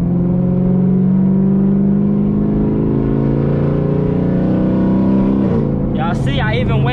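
A Camaro ZL1/SS engine pulls under load with a steady rising drone, then drops in pitch at a paddle-shift upshift and climbs again as it keeps accelerating, loud inside the cabin.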